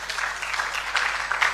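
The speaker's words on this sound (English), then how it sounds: "Let's give them a round of applause." Audience at an inter-school debate on ECOWAS regional integration applauds the winning team, a steady, moderately loud patter of many hands clapping throughout.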